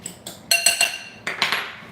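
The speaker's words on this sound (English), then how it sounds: "We'll get our mini whisk. Break these up first, and then season." Eggs and egg whites being whisked with a small mini whisk in a kitchen, giving a quick run of light metallic clicks and taps against the bowl in short irregular bursts, close and fairly quiet, with no talking.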